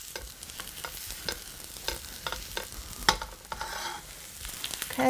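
Vegetable rostis crackle and sizzle in a pan as they are turned, with a steady hiss punctuated by scraping and clicking from the utensil.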